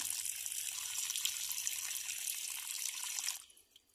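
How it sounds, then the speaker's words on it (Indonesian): Water is poured over an aglaonema houseplant, soaking its leaves, stems and potting medium. It makes a steady, close splashing gush for about three and a half seconds, then stops abruptly, leaving a few faint drips. "Kita siram semua bagian tanaman kita, mulai dari daun, batang, sampai dengan media tanam kita."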